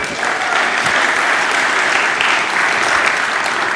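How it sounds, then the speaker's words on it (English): Sustained audience applause fills a tech industry event hall after a sponsor announcement, dense and steady throughout with no gaps. "a round of applause"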